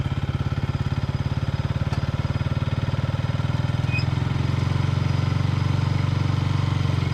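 A KTM motorcycle engine runs steadily throughout, driving a rope merry-go-round, its even mid-pitched drone holding close and loud, with a slight rise in intensity partway through.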